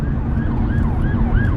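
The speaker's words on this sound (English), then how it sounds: "the ambulance is overtaking us" An ambulance siren wails loudly and close by as it overtakes a Renault Megane III, its pitch sweeping up and down in repeated cycles over steady road and engine noise.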